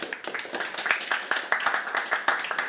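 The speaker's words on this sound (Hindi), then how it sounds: "तालियां उठाते हैं, बुलाते हैं अगले" Audience applause for a poetry performer at an open-mic event, a steady patter of scattered hand claps from a modest crowd, moderately distant and fairly soft.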